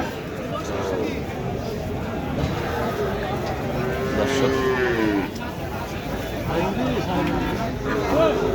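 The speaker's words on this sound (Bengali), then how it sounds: "সুন্দর সুন্দর গরু" Cattle moo repeatedly, some low and drawn out, over a busy crowd at Baneshwar cattle market, with people talking nearby.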